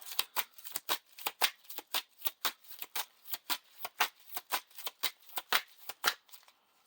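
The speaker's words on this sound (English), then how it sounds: "We have to shuffle Tom Bombadil back into the encounter deck." A deck of cards being shuffled during a Lord of the Rings card game, a quick run of crisp riffling flicks in a fast irregular rhythm, close and fairly quiet, with no speech.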